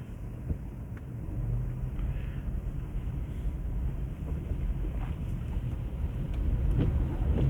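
A car drives through snowy St Petersburg during a blizzard, with a steady low road rumble and engine drone, muffled wind noise over it and occasional faint clicks from inside the cabin.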